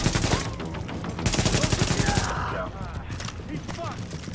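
Rapid automatic gunfire and overlapping shots from a firefight in The Division, set around Times Square, loud and sustained across the clip, with bursts swelling and easing and a few higher tonal game sounds layered in.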